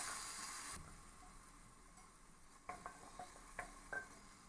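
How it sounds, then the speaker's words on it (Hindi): Tomatoes sautéing in a pan for dal dhokli, a steady low sizzle with several brief spoon scrapes and clinks against the pan in the latter half, fairly faint and with no talking. "इस तरीके से टमाटर को भी अच्छी तरीके से हम भून लेंगे, इसको अच्छे से पका लेंगे इस तरीके से"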